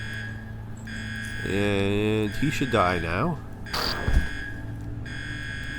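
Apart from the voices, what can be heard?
alarm going off in UnderRail video game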